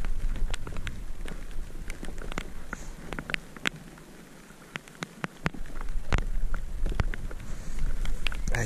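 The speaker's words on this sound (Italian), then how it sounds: "E noi ci ripariamo un po' dalla pioggia." Rain patters steadily during a kayak fishing trip at sea, a dense wash of drops with sharp louder hits scattered throughout, close and continuous with no talk.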